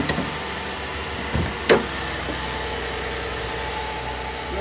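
A 3.6-liter direct-injection V6 with variable valve timing idles steadily in a 2017 GMC Acadia Limited SUV, a low, even hum with a couple of brief clicks and one sharp transient partway through.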